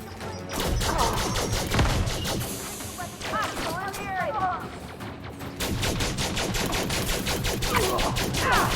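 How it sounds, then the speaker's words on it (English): Sustained bursts of rapid gunfire fill a space shooter dogfight in Elite Dangerous, dense and loud with overlapping shots, while voices talk over the action throughout. "I think they hit each other, so they started shooting each other."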